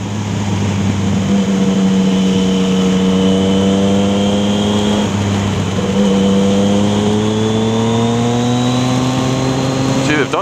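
A 2015 Yamaha MT-09 Tracer motorcycle with an Akrapovic titanium exhaust revs loud and close, its engine note climbing slowly in pitch and holding steady with no voices.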